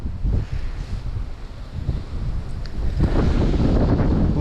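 Strong wind roars and buffets the microphone in low, gusty surges, easing briefly before building louder again toward the end.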